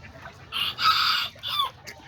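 Backyard chickens and a rooster, kikiriki and Azteca birds, cluck and give short crowing calls close by in a few loud bursts over a quiet outdoor background.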